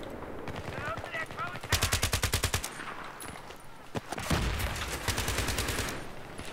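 A Scar-L rifle fires in Battlefield 3, loud rapid automatic bursts with an evenly spaced crack rhythm, then further gunfire and a mix of battle noise.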